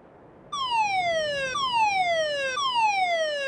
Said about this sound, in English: I'm going to turn on the fire alarm again.